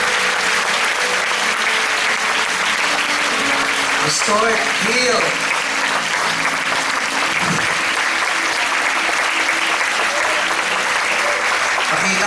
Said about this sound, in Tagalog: Malakas na palakpak nga po sa tayo.